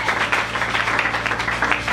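A church congregation applauds steadily, a dense wash of many hands clapping at moderate volume with a faint low hum beneath, continuous and without talk.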